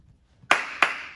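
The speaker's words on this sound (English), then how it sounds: "When I clap my hands twice, you're gonna stop." Two sharp hand claps about a third of a second apart, given as a stop signal during a judo workout, crisp and close after a brief quiet lead-in.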